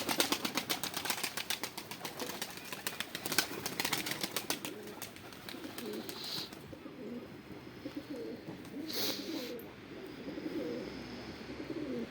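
Pigeons coo softly and repeatedly close by, with occasional wing flutters and light rustling, no talking.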